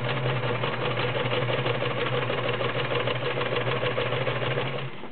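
Kenmore Model 1941 free arm convertible sewing machine stitching through three layers of garment leather, a steady close motor hum with rapid even needle chatter that slows slightly at the end, no talk.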